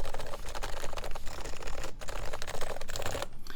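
Fast clattering keystrokes on a custom mechanical keyboard with lubed MX switches, a dense continuous patter of soft clicks and thocks, close and alone.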